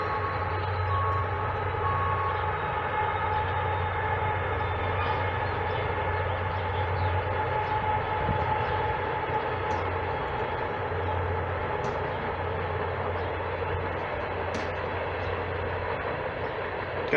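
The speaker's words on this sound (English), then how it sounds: "there's a train coming right now" A long, steady rumble of a CSX freight train with two diesel locomotives and tank cars rolling past nearby, with continuous low droning and grinding and no speech.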